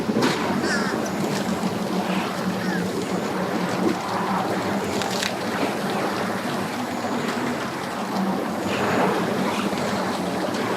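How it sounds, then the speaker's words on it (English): A Sea-Doo personal watercraft comes in toward a boat ramp, a steady broadband motor and water wash running throughout at moderate distance, with outdoor wind and faint voices nearby. "Comes another sea-doo in."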